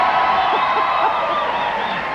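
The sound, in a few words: studio audience applause triggered by switch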